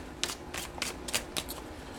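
Tarot deck being shuffled by hand, a quick run of five or six crisp papery riffles at a brisk irregular rhythm, close and clear over a low steady background hum.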